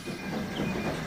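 A heavy train rolls downhill, giving a steady broadband rumble with a faint high hiss and a thin whine over it. The sound is continuous and moderately loud throughout the short stretch, with no voices.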